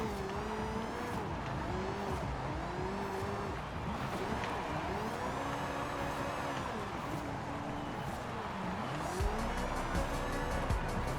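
Corvette C8 Z06 drift car revving hard, with rising and falling engine pitch through shifts, tire squeal and skidding under steady loud engine noise throughout.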